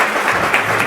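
A brief burst of audience applause for members of Congress at a forum on homelessness, a loud, dense clatter of many hands, close and unbroken for its short span.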